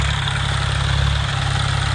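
A tractor engine idles steadily while driving a spray pump in a potato field, a loud, close, low throbbing drone with a constant rhythmic pulse and no talk.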